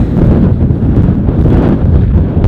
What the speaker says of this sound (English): I've got a feeling that the wind will have messed up all the audio from up on Birkrigg